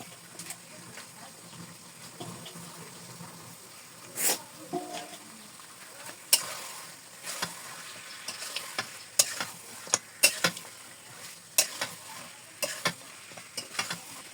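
Duck meat being stir-fried with spices and green chilli, a soft sizzle broken by repeated scraping and clacking of a spatula against the pan at irregular intervals, close but fairly quiet with no talk.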